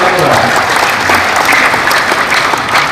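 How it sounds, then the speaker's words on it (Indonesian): Loud crowd applause for the Hanura party at a political inauguration ceremony in Kupang, dense, continuous clapping with some crowd noise, sustained at an even level. "Kita kasih tepuk tangan untuk Partai Hanura."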